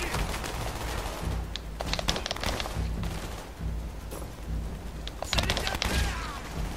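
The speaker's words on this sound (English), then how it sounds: "Shooting long ranges with a frickin' shotgun there." Shotgun fire in Call of Duty: Black Ops, several rapid bursts of loud blasts with booming impacts clustered in two groups over a busy game soundscape.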